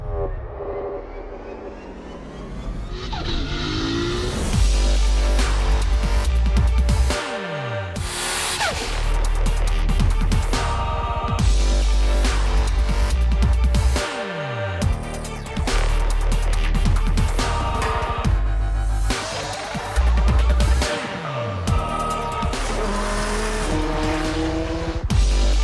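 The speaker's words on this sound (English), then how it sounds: "we take our WRX project budget track hack to Oz Time Attack at Wakefield Park Raceway" A budget Subaru WRX track car laps Wakefield Park Raceway at a time attack event, its engine loud and close as it climbs through the revs, with repeated gear changes, drops in pitch on lifts and brief tire squeal.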